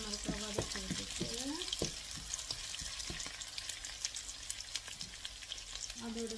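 Dried red chilies sizzle and crackle in a pan for a drumstick leaf stir-fry, quiet and steady, with intermittent stirring clinks and a few brief voice fragments at the start and end.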